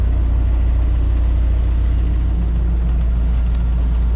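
Sailboat auxiliary engine running steadily while motor sailing, a constant low droning hum with a steady throb, close and uninterrupted, with no voices.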